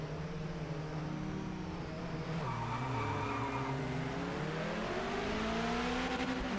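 A race car in Project Motor Racing launches from the start, engine revving high then climbing through rising, wavering pitches with tire squeal, fairly faint and steady without talk.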